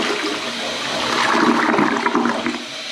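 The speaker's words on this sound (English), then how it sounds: "but watch this flush." A small-size toilet, newly set, flushes with a steady rushing swirl of water that swells midway and then tapers as the bowl drains, alone and close.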